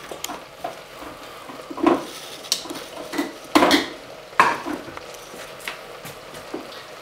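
Pesto trapanese being spooned and scraped into a pan, a series of separate clinks and knocks of a utensil against the metal, with a faint sizzle underneath and no talking.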